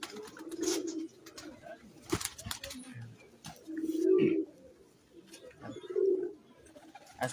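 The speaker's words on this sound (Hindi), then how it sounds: "ये जी ब्रीडर कबूतर हैं इनके माशाल्लाह।" Breeder pigeons give low, throaty coos in three or four separate bursts, spaced a couple of seconds apart, with a few clicks and knocks between them and faint voices nearby.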